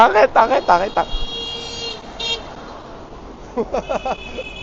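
Car horn honking out on a city street, a sustained toot rising above traffic noise between stretches of nearby talk.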